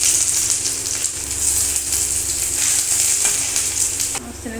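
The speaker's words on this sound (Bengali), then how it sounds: "আর এবার তেলটা গরম হয়ে গেলে একে একে সবজিগুলোকে আমি ভেজে নেব।" Chilli, onion and vegetables hit hot oil in a pan for a vegetable Maggi noodle dish, giving a loud, dense, continuous sizzle up close with a brief stir near the end.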